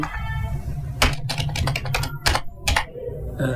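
Computer keyboard typing in short bursts of clicky keystrokes, close and fairly clear, with irregular pauses between strokes over a low background hum.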